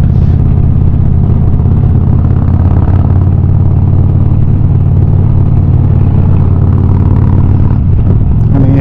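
A loud, steady engine rumble from motorcycles riding along the Cunningham Highway over Cunningham's Gap, with a Honda Valkyrie, an old BMW and an Indian Challenger droning continuously up close with wind noise.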